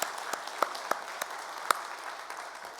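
A church congregation applauds at an anniversary Sunday service, a soft, even wash of clapping with a few sharper individual claps standing out.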